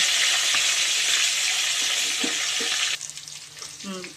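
Crushed garlic, ginger and curry leaves sizzle in hot oil with tempering seeds for a chutney tempering, making a steady, loud frying hiss that drops abruptly into softer crackling and stirring.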